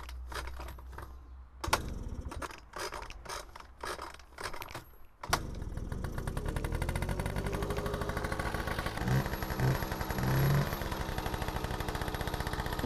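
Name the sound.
Honda NC50 scooter engine running after 20 years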